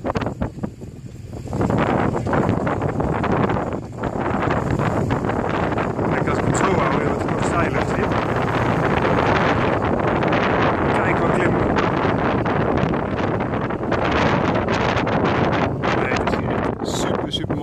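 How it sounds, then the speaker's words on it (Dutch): Strong wind buffeting a microphone at the Passo di Gardena mountain pass in the Italian Dolomites during a road cycling ride, a loud continuous roar that gusts throughout, with a brief lull early on and nothing else standing out. "het waait wel, dus dat hoor je natuurlijk"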